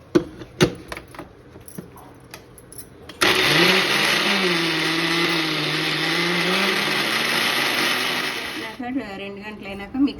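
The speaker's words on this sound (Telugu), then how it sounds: "ఇలా మిక్సీకి మొత్తం అంతా వేసేసుకోవాలి." A kitchen mixie grinds spices for tokkudu pickle, starting abruptly after some clinks and handling noises, then whirring loudly and steadily for several seconds before stopping.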